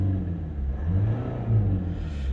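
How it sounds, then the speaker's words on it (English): A 2011 Mitsubishi Outlander with a 2.2 diesel engine revs, a low, close diesel rumble that swells in a couple of brief surges before settling back, heard alone without talk. "I'll just give it a quick rev as we always do on these videos"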